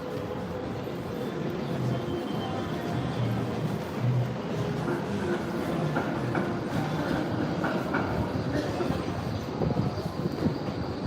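A Melbourne tram rumbles steadily past nearby in the city centre, with rolling wheel noise and faint clatter lasting several seconds over street ambience.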